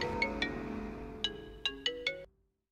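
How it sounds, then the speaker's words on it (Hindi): Electronic phone ringtone with a bright melodic chime repeating in short bursts, fairly loud and alone with no talking, cutting off abruptly after about two seconds. "मैडम आपका फोन है।"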